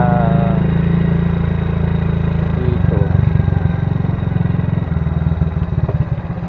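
An old Honda Wave 100 motorcycle runs steadily at low revs while being parked at night. The engine drone is loud and close, with a mechanical clatter and shifting rumble throughout.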